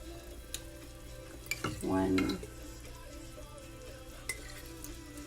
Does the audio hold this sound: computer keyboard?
no